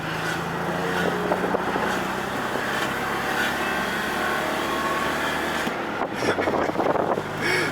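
A BMW E34 pulls away quickly, its engine a loud, steady roar under heavy wind buffeting from inside the car, followed by a brief rougher burst toward the end.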